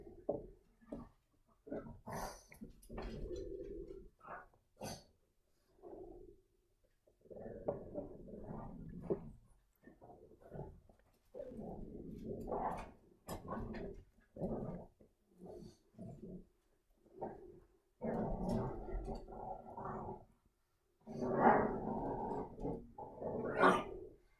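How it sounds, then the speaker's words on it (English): Several pet dogs growl and snarl at each other while fighting over something, a long run of low rumbling growls in bursts and short snaps, fairly faint and heard from the background of a room. "My doggies are growling in the background"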